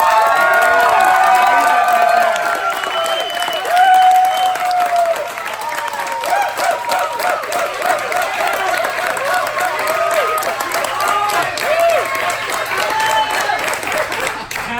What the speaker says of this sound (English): I want everyone to give Tess Butler a round of applause.